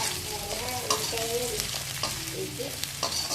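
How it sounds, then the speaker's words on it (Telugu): Fried potato pieces are stirred in a pan for potato rice, with a steady sizzle of frying under repeated scraping stirs of a spatula, close and continuous. "పొటాటో ముక్కలు వేసుకున్న తర్వాత బాగా కలుపుకోవాలి"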